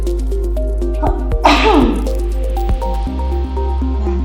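A single sharp sneeze into the inner arm bursts out over a steady low hum, followed by a wet, drawn-out exhale.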